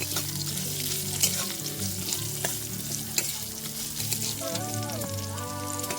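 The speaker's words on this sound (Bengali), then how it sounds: "বাদামটা হালকা ভাজা ভাজা হয়ে গেলে" Peanuts fry in a pan with a continuous close sizzle and light stirring scrapes, while faint background music runs underneath.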